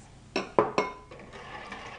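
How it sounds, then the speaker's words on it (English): Eggs being whipped into melted butter and sugar in a bowl for a cherry frangipane tart: a few sharp clinks of a utensil against the bowl, then softer scraping and mixing, close and alone. "Then whip in the eggs."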